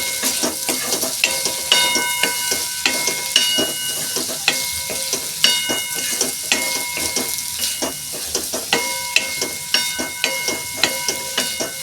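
Turmeric, red chili and sugar get stirred in a hot pan for vegetable pulao, with a continuous sizzle under regular scraping strokes and clinks of the spoon against the metal, steady and close.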